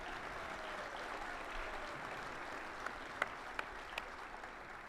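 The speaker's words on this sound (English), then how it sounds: "One more huge round of applause for not only our wrestlers, but their families" Crowd applause fills a high school gym on wrestling senior night, a faint, distant and even wash of clapping with a few sharper claps standing out toward the end.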